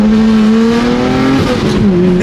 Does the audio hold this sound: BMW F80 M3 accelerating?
yes